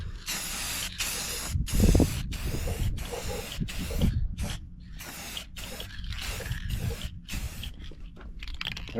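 Final coat of paint is sprayed onto a 1988 Mustang GT Foxbody, rendered as a series of loud, close aerosol hisses in separate bursts with short pauses between them.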